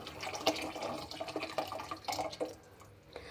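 Soaked tamarind water pours and drips into a pot for garlic kara kuzhambu, a light, close splashing and trickling that tapers off near the end.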